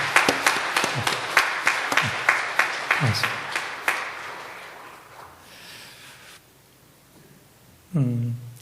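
Warm applause from a church congregation during a Sunday morning worship service, a few sparse claps at first that fade, followed by a voice starting to speak near the end.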